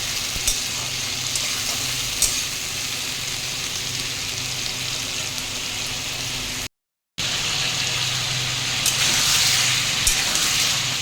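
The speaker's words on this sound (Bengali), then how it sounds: "আলুটা আরও ভাজতে হবে" Potatoes fry in a pan while tomatoes and mustard curry are being cooked, a steady, close sizzle running throughout with a brief break near the middle.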